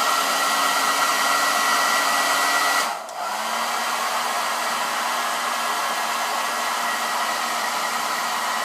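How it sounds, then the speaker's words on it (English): A hair dryer blows steadily while drying a cosplay wig, giving a loud, continuous whooshing hum that briefly dips around the middle before resuming at an even level. "So then you take your hairdryer again and just blow dry it that way."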